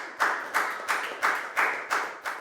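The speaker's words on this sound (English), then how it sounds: "give yourselves all a big round of applause" Students in a classroom clap together in slow, regular unison, about seven sharp, evenly spaced claps ringing out over a couple of seconds.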